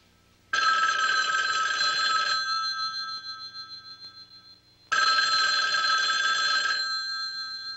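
A telephone bell rings twice, each loud trilling ring lasting a few seconds and separated by a pause, going unanswered in a quiet room.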